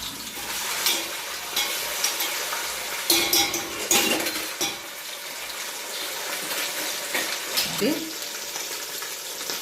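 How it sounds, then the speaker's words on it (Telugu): Cardamom, cloves and ginger paste frying in a pot for Arab-style maajboos biryani, a steady close sizzle broken by occasional scraping stirs, with no voices. "పచ్చివాసన అంతా పోయే దాకా వేయించుకోవాలండి"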